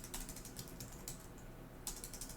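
Rapid keystrokes clatter on a computer keyboard, a quick run of faint, close clicks with a brief pause before another short burst.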